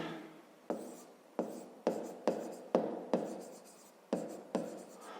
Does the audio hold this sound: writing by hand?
yes